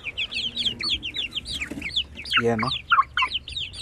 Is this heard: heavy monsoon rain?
no